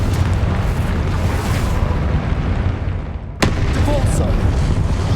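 A Confringo spell explosion in the Hogwarts Legacy video game booms with a loud rumbling roar, fading briefly before a sharp crack and another sustained blast, dense and close.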